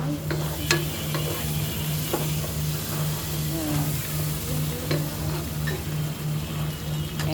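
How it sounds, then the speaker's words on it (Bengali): Fish fries in a pan with a continuous sizzle under a low steady hum, broken by a few sharp clicks and scrapes of a utensil. Nobody speaks. "এই যে এটারে এইভাবে করে দিয়ে দিলাম, যাই এখন ফ্রাই হও"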